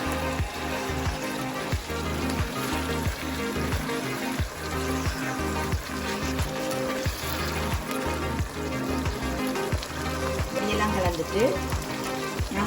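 Chicken is stirred into salsa in a pan, a steady sizzle and bubbling under rhythmic scraping and mixing strokes that repeat roughly every second, close and fairly soft.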